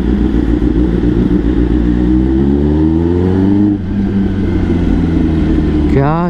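A Kawasaki ZX10R sport bike fitted with an Arrow full-system exhaust revs hard and loud, the engine note climbing steadily, dipping briefly, then rising again close to the mic, with a voice talking over it.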